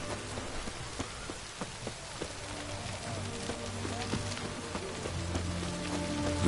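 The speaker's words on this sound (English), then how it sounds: "Looks like rain." Rain pours in a PS4 video game, a steady patter of drops on surfaces with a few sharp ticks, growing slightly louder toward the end over low tonal game ambience.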